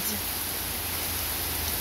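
Heavy rain pours down over a flooded yard and horse pen, a dense, steady hiss of falling water filling the air without pause.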